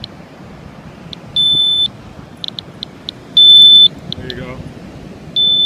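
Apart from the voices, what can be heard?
radiation meter alarm beeping on a beach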